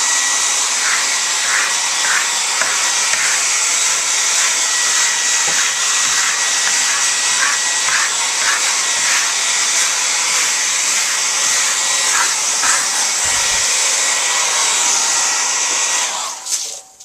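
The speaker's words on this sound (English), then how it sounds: "That new hair blower?" A hair dryer blows steadily and loudly on Venetian plaster, a Carrara coarse two-tone finish, with a continuous broadband rush and slight fluttering, running alone for about sixteen seconds before cutting off at the end.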